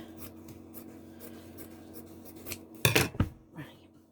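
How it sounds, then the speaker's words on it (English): Material for a balloon box is cut by hand, a few soft scraping strokes followed by two sharp, louder snipping bursts near the end, close up. "I'm going to cut that again"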